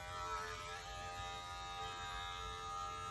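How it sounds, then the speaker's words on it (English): Electric clippers shaving a head down close with a tight guard, a steady, continuous buzzing hum running near and unbroken throughout, with no talking. "This actually feels like a closer shave than my last one, so the guards might be slightly different."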